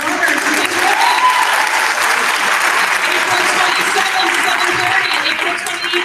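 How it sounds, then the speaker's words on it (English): Audience applause for performers at a school board of education meeting, a dense, steady clapping from a full room that holds at even loudness throughout and tapers slightly at the very end. "Another round of applause for our performers."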